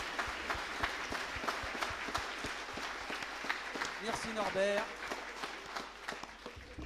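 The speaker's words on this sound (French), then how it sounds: "On peut les applaudir." Applause from a colloquium audience, with scattered, distinct claps in a loose rhythm and a brief spoken thanks partway through.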